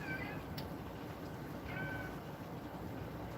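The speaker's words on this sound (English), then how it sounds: "Now I've got a kitty meowing." A cat meows twice, fairly faint, on a sunny morning, its thin cries rising above a steady wash of background noise with no one talking.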